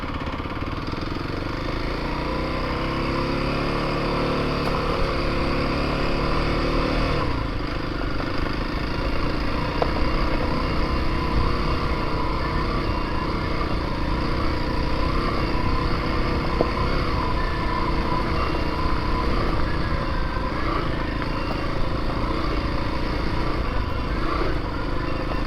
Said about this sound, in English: On Don's KLX300. He graciously allowed me to do a test ride.